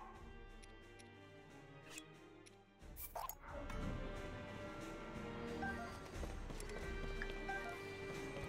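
Horse hooves clip-clop in a video game, a faint rhythmic run of hoofbeats that grows busier and louder after a sudden shift midway, set against low game ambience.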